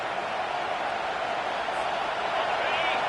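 A home crowd roars at an Auburn versus Ole Miss college football game on third down, a steady wash of cheering from a large stadium, continuous and broad under a broadcaster's commentary.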